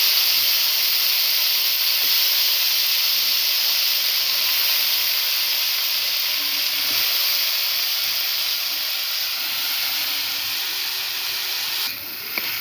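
Onion frying in hot mustard oil in a wok makes a loud, steady, close hiss and sizzle with no break throughout. A brief clatter comes near the end.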